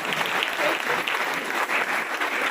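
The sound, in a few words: audience applauding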